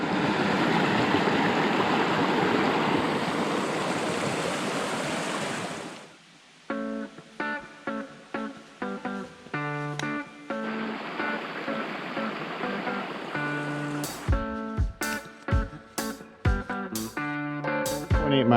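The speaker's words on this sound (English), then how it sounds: "Right off the junction here we have a water crossing." A stream rushes at a water crossing on Cedar Brook Trail in the White Mountains, a steady close wash of water for several seconds before music takes over.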